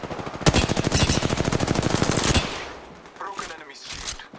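Rapid automatic gunfire in the battle royale game Apex Legends, a dense burst of shots for about two seconds followed by scattered quieter game sounds and effects.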